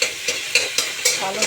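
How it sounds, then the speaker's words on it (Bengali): Black cumin seeds added as tempering to hot oil in a home kitchen, a close steady sizzle broken by several quick stirring scrapes, with no talk. "ফোড়ন দিলাম"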